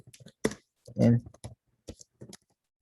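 Someone types on a computer keyboard, producing several sharp, separate key clicks spread unevenly across a few seconds. A brief voiced sound breaks in partway through.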